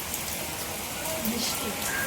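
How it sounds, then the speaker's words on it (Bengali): Heavy rain pouring outside a house on a dark evening in Liluya, a steady broadband hiss that stays even and fairly faint throughout, with no talk heard. "মারাত্মক বৃষ্টি এবং খুব অন্ধকার করেছে"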